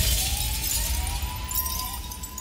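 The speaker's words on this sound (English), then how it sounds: "siren effect and a glass smash." A glass-smash sample played over a DJ mix of Afrobeats, dancehall and bashment, a steady crashing, shattering texture that holds loud through the whole stretch, while a thin rising siren tone runs beneath it.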